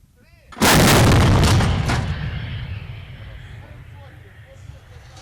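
A single powerful naval artillery gun blast during Ukrainian Navy firing drills booms out loudly, then rumbles and echoes away slowly over several seconds.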